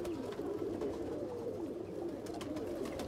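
Slate pigeons in a loft of fancy breeding pigeons, soft continuous cooing in a low murmuring drone, fairly close and steady with no talk.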